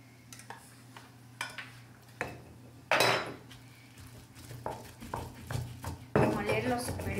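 Stone molcajete grinding two small chiles with garlic for a salsa, giving irregular scraping and knocking strokes, a few louder crunchy bursts, close by over a steady low hum.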